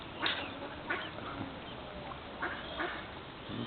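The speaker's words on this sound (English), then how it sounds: "These 4 little ducklings just come waddling off over the bridge to this" Small ducklings and their mother duck by a garden bridge give soft, scattered quacks and peeps against quiet outdoor background noise.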